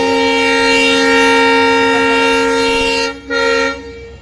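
A train departs Mariyala Gangavadi, a single-line station on the Chamarajanagara to Mysore route, sounding a loud, sustained horn blast for about three seconds, then a brief pause and a short second toot.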